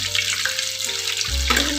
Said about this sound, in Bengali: এগুলো খুব সহজেই ভাজা হয়ে যায়